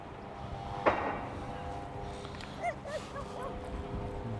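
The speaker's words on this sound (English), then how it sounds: "I've got a dog barking at me." A dog gives a few faint, short yips and whimpers from some distance, heard beside a football pitch under construction at Anfield, Liverpool, over a steady outdoor hum.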